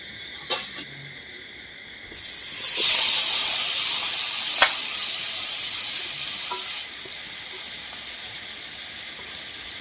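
Marinated paneer drops into a little hot oil with a few clicks, then a loud hissing sizzle bursts up and holds steady before easing back to a quieter fry, close and without talk.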